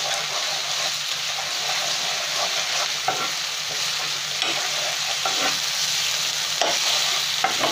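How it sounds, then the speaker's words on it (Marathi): Ginger garlic paste sizzles steadily in a hot pan for a prawn curry, a dense continuous frying hiss with occasional scrapes of stirring, close and loud with no talking. "यामध्ये मी आता आलं लसूणची पेस्ट टाकली आहे आणि ती पण आता हळूहळू परतून घ्यायची आहे"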